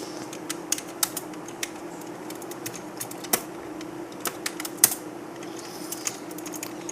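Rapid, uneven clicking of keys on a computer keyboard as code for an Arduino seven-segment LED display is typed, close and distinct over a steady low hum, with no talking.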